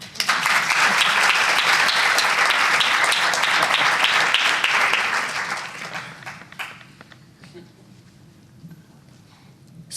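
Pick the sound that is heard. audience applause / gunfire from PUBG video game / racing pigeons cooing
audience applause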